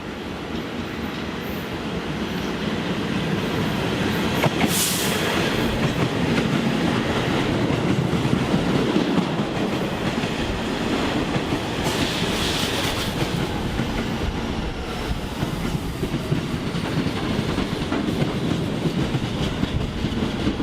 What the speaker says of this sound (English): I gotta step in because there's a Q train coming.